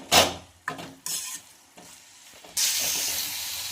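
Radish chutney cooking in a pan with garam masala, stirred in several short scraping bursts, then a steady sizzle and hiss that grows louder toward the end, close and alone.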